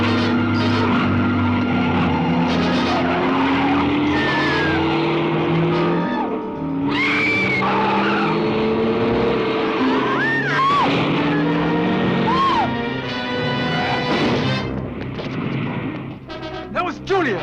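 Car skidding and striking a person in the 1978 film Summer of Fear: screeching tire squeals and rumbling engine noise with sharp impacts, loud and chaotic, mixed with shouting voices.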